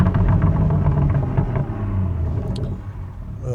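A BMW 340i engine and exhaust rumble steadily at close range, a low droning note that eases slightly partway through, with no voices.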